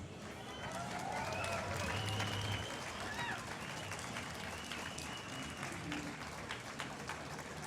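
An arena audience claps and cheers at an Oceanic League of Legends championship semi-final, with broad, steady applause at moderate distance and a commentator's voice talking over it.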